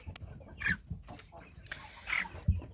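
Ross-708 broiler chickens sit under a red heat lamp, clucking softly nearby with scattered short calls, and a person talks over them.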